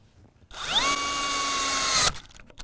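A Dewalt XR 3-speed hammer drill whines up to full speed, holds a steady high motor tone for about a second and a half, then the clutch cuts it off abruptly; close and loud, with quiet handling noise after.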